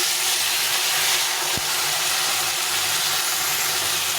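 Boiled water poured into a pan of frying spices and small fish for a Bengali fish chachchari, a loud steady hiss and sizzle running throughout with no talk.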